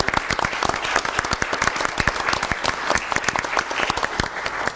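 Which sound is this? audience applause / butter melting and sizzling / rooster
audience applause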